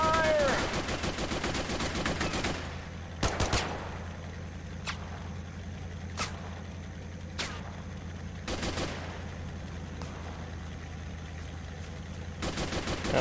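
Gunfire in a modern army squad-based FPS game, with sporadic sharp shots and short bursts over a low rumble, some louder close shots among fainter distant ones.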